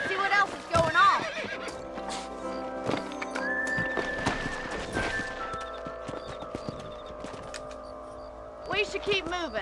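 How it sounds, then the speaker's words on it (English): Horses in the video game Red Dead Redemption whinny and clip-clop at a gallop, with repeated neighs near the start and end over steady hoofbeats and scattered game sounds, while voices talk in the background. "Let's get back on the horses and see what else is going on."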